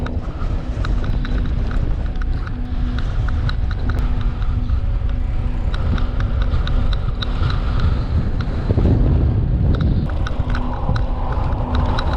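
Strong, steady wind roars and buffets the microphone throughout, loud and continuous, with faint rattling and knocking underneath, during a sandstorm on mountain village roads near Mount Erciyes, Kayseri, Turkey.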